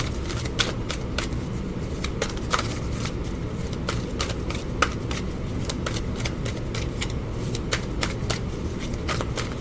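A deck of tarot cards is shuffled repeatedly, crisp riffling and flapping bursts in a quick irregular rhythm, close and fairly loud, with no talking.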